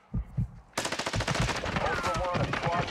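Rapid automatic gunfire in the Call of Duty DMZ video game, a few thumps and then sustained dense bursts of rounds with shell clinks, loud and close, with a voice briefly under the shooting.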